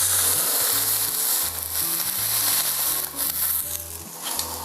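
Steak sears skin side down in a hot, dry pan with no oil, a loud, dense sizzle and crackle close by with occasional stirring scrapes; no talking.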